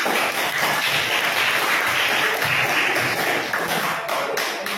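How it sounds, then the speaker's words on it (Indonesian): A classroom of students applauds after a presentation, a loud, dense, steady wash of clapping close by that continues without pause and fades slightly at the end. "Bagus sekali, tepuk tangan."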